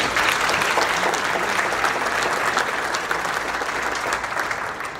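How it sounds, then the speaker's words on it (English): Steady applause from a crowd at a State of the City address, dense and continuous clapping filling the whole stretch, gradually easing slightly toward the end. "Can I give them a round of applause?"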